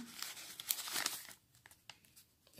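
A paper envelope is torn open by hand nearby: a dense burst of ripping and crinkling for just over a second, then scattered softer rustles and crackles as it settles.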